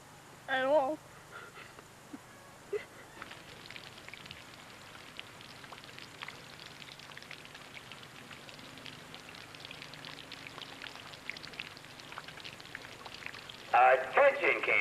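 Steady light rain falling outdoors at a summer camp, a continuous soft patter throughout, with brief louder sounds near the start and end.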